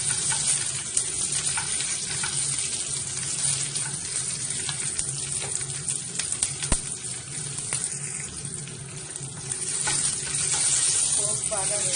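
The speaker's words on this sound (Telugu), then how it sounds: "పోపు బాగా వేసేసాము" Cut green chilies sizzling in hot oil for a gongura pulihora tempering, a loud, dense, continuous crackle close by, with a brief clink near the middle and a voice faintly underneath.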